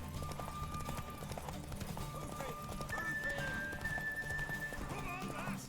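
In the Witcher 3 video game, a horse's hooves clip-clop at a run while neighs and whinnies rise over it, with a voice speaking and background game sounds.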